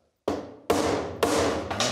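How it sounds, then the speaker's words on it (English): A brass hammer strikes metal spur parts in three sharp ringing blows, each one fading slowly, with a fourth quicker hit near the end. The blows are close and loud. "You got a brass hammer, so you can go ahead and whack it."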